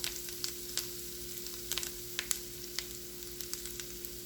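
Flour being stirred into browned sausage in a pan to make a roux, quiet frying crackle with a series of sharp scraping and tapping stir strokes in irregular rhythm, close but low in level, with a faint steady hum behind.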